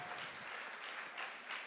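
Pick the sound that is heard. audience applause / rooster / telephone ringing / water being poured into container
audience applause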